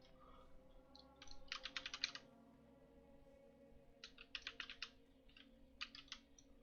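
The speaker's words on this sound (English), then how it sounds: "if you're still hearing my keyboard, I probably have to add a noise suppression filter" A streamer's computer keyboard typing in short rapid bursts of clacking keys, moderately close, separated by quiet pauses.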